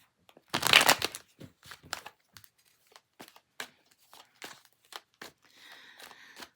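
Quick bursts of tarot card shuffling, a loud riffle at first followed by a string of short papery flicks and taps, ending in a softer rustling shuffle.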